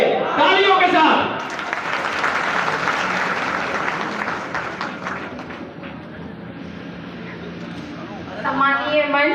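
Audience applause at a rally in Tikamgarh, a steady crowd of clapping hands that swells then settles, with a speaker's amplified voice heard briefly at the start and again at the end.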